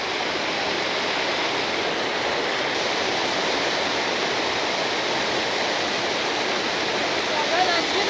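Dassam Falls on the Kanchi river near Ranchi, a steady loud roar of falling water, broadband and unbroken from start to end, with no distinct voices standing out.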